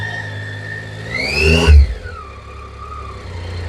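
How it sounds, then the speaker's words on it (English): An enduro motorcycle engine revs up sharply as the rider works the throttle and clutch, rising to a loud peak around midway, then dropping back to a lower idle-like drone. "just controlling the bike with the throttle and the clutch."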